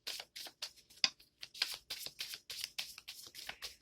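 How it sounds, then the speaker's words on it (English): A tarot deck is shuffled by hand, giving a quick series of crisp, riffling card bursts in an uneven rhythm, close and fairly quiet, with no talking. "We're going to give it 3 more shuffles."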